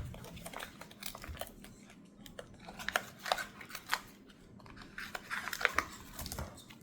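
Scissors snip through the plastic of a large twin-pack of sliced ham from a warehouse store, a series of sharp close cuts and crinkly rustles spread irregularly through the clip, with no talking.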